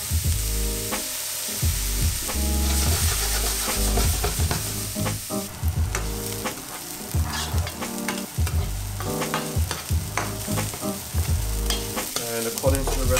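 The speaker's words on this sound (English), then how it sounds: "I'm going to add my shallots as well. I'm going to fry these until they get brown" Shallots fry in hot oil with a steady close sizzle while a spoon stirs and scrapes the pan over and over in an uneven rhythm.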